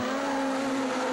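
Rallycross cars racing with a Saxo kit car in the lead, a loud sustained high-revving engine scream close by, steady and without talk.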